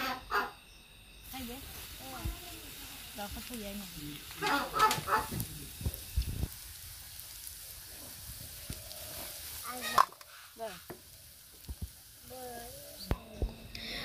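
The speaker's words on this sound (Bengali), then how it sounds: "এখন আমি ভেজে নিব নাড়াচাড়া করে এই তেলের মধ্যে।" Chopped onion and garlic cloves fry in oil with a soft, uneven sizzle, stirred now and then with scraping clatters, while a voice talks intermittently over the cooking.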